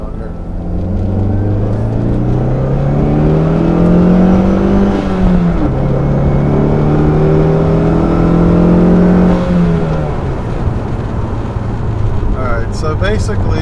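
A turbocharged 2.4-litre car accelerates hard up an on-ramp, its engine note climbing steadily through one gear, dipping at a shift, then rising again before settling; close, loud and continuous, with some voice mixed in.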